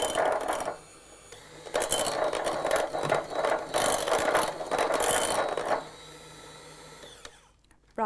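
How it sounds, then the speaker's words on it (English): An electric blender whirs in bursts while mixing mascarpone in a kitchen, a loud rattling mechanical drone that pulses on and off several times before winding down into quiet. "I'm going to switch on again and just blend all that together"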